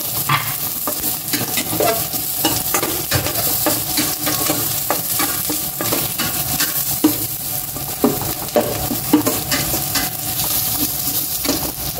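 Onions sizzle and fry steadily in a hot pan while being stirred, with scraping and clinking stirring sounds continuing throughout; nobody speaks.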